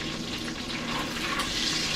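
Water poured steadily into a measuring cup while making low-carb BBQ sauce, a continuous close splashing hiss with no talk over it.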